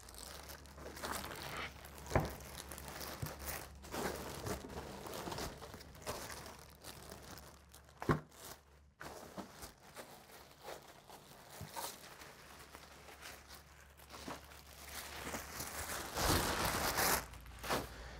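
A plastic bag is pulled off a new gaming PC, with intermittent crinkling and rustling plastic, fairly quiet, in irregular bursts with a louder stretch near the end.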